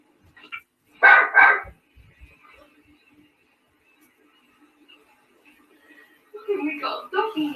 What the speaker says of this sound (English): The barking here is quite extraordinary,